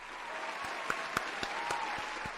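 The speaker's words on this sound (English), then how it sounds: "let's get a round of applause for Yuji." A crowd claps steadily for a couple of seconds, a dense wash of applause with a few sharper individual claps standing out.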